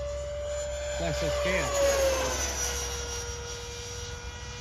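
A jet aircraft making a low pass with an odd, unhealthy engine note, heard as a steady whine and roar that swells briefly and then holds, with a brief voice speaking over it.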